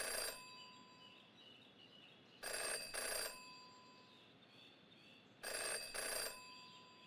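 A telephone rings in the mystery adventure game Jenny LeClue, two double-burst rings spaced a few seconds apart, bright and clear over a quiet ambient background.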